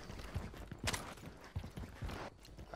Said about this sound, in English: I hear footsteps above me